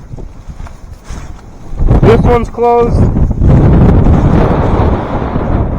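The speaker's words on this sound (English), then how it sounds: "that's pretty windy too." Strong wind roars steadily across an open corn field, a loud broadband rush with microphone buffeting that swells midway and stays heavy, while someone speaks briefly over it.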